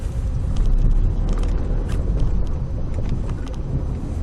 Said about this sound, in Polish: zobaczymy jak się opona sprawuje przy podjeżdżaniu